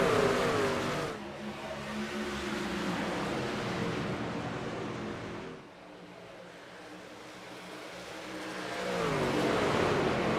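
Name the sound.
race trucks accelerating at restart, sim racing video game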